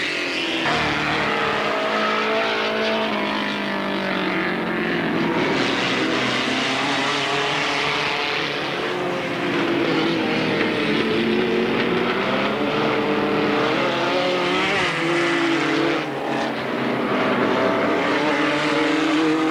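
Several race cars lap a circuit at Alwalton Raceway in 1983, a steady loud engine roar with rising and falling pitches as the cars spread out around the track, continuous with no pauses.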